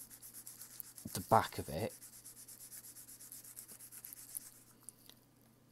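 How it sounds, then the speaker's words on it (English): A metal file rubbed gently across the back of a small photo-etched brake disc for a model, a short scratchy rasping burst of strokes, close, with a person speaking quietly around it. "get my file that I said don't use on the other bits, and I'm just going to gently rub"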